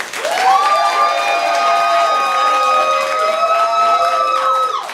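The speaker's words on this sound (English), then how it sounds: "Applaud now if you think Jocelyn gave a better joke" An improv comedy audience applauds and cheers to vote for a joke in a comedy tournament, with sustained crowd noise and whoops running under the clapping.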